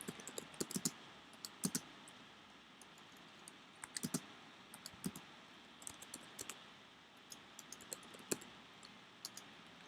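Swift code is typed on a computer keyboard as soft, close key clicks in irregular bursts and scattered single taps over a quiet room background.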